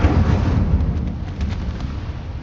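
A fire spell cast in Hogwarts Legacy bursts out as a loud, sustained roaring rumble with crackling flares on top, holding steady for a couple of seconds with no talk.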